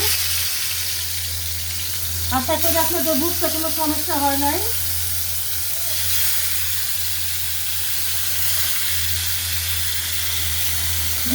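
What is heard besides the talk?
rui fish frying in a pan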